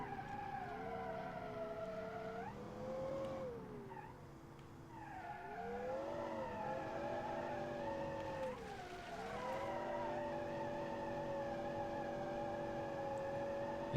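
Tyre squeal from wheelspin on the inside wheel of a 1995 luxury sedan in the BeamNG driving game, a sustained whine under engine drone that bends in pitch as the car slides and recovers.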